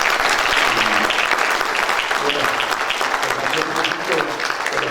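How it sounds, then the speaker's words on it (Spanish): An audience at a Mother's Day gathering breaks into sustained applause for the mothers present, a dense, steady wash of many hands clapping throughout, fairly loud and continuous. "le regalamos un aplauso a cada señora, a cada mamá que se encuentra en este lugar"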